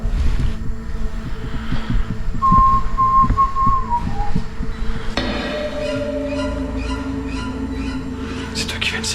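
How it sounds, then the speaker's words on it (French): A person whistles a short tune inside an abandoned manor. It is a clear, mid-loud melodic whistle lasting a couple of seconds, set against a cluttered indoor background of knocks and rustling, and a steady hum follows it. "C'est toi qui viens de siffler?"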